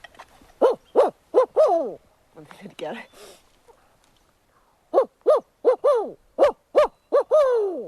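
A woman imitates an owl's hooting call, giving a series of short, closely spaced hoots in two bursts with a pause between, heard near and clear outdoors among dry grass, with brief speech in between.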